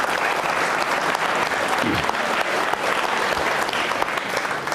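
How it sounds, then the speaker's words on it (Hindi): An audience claps loudly and steadily for a guest during a televised Hindi devotional quiz program, a dense, even wash of applause with no voices over it. "बजाइए इनके लिए तालियां जोरों से आप।"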